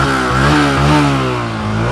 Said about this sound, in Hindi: आइडियल कंडीशन पर इंजन साउंड सुनिए, एग्जॉस्ट नोट सुनिएगा।